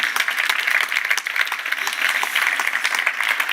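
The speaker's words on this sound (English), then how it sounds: "I think that deserves a round of applause." Sustained audience applause at a European Space Agency event held steady and fairly loud throughout, a dense even wash of clapping with no voices over it.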